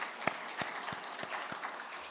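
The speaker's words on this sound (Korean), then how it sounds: "격려의 박수 한번 합시다" A church congregation applauding in encouragement during a sermon, heard as faint, distant clapping with several sharper claps standing out from a soft, steady wash of applause and no voices over it.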